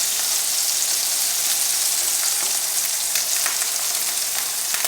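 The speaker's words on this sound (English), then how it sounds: "our sausage is cooking, our eggs are cooking" Sausage and eggs fry together in a single pan, giving a steady, dense sizzle and crackle with scattered pops throughout, close and fairly loud, with no talking.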